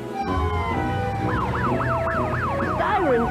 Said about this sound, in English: Sirens say, help's on the way!